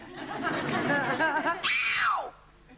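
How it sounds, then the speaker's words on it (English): Someone lets out a rock scream, a rising then sliding high wail at the end of a stretch of chatter and laughter from a small group on a TV studio set. "That's a rock scream."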